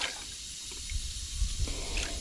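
Water pours into a chicken water trough on a farm in hot summer weather, a faint, low splashing and trickling close by with no talk.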